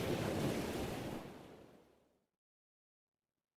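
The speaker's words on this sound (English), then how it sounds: "The waves were choppy, and he had to paddle harder than before." Choppy ocean waves as a sound effect, a broad roar of surf with a windy rush that fades steadily over about two seconds into silence.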